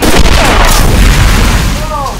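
A grenade launcher on an M1 Garand fires in World at War zombies, a loud booming blast with a sustained rumbling explosion tail and game noise around it.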